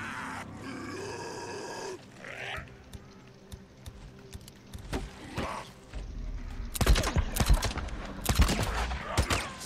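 Gunfire in the zombie-survival video game Days Gone, with a burst of sharp, loud shots in the latter part following grunts and growls, mixed with game ambience and a voice talking.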